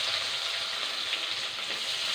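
Onions frying in oil with golden-browned garlic for sorakkai kara kuzhambu give a steady, close hiss of sizzling that holds evenly throughout, with no talking.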